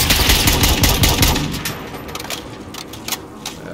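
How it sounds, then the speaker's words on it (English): Rapid bursts of automatic gunfire from an online shooter video game match, loud and dense at first, then thinning to scattered shots over a quieter game soundscape. "they're shooting at us"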